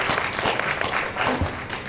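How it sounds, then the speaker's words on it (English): An audience at the United Way of Jamaica Nation Builders Awards ceremony claps steadily, a continuous wash of applause from a crowded room with no clear talk. "Can we have another round of applause?"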